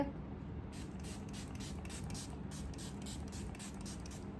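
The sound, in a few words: Faces Canada setting spray being sprayed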